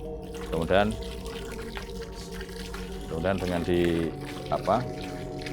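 Water that has been prayed over is poured from a container into a garden pond at Batam Centre, splashing steadily in a few bursts while someone speaks close by.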